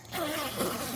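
A close zipper on a Hisun Stryker side-by-side's soft upper door being drawn open in one continuous rasping pull, loud and steady for about a second.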